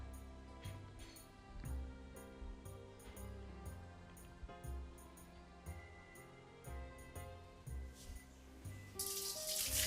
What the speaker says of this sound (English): So pouring the whey off there.